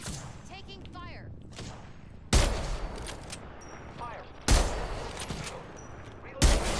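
Sharp, loud bursts of video game gunfire crack out about three times at roughly two-second intervals, separated by quieter stretches holding chirping synthetic effects.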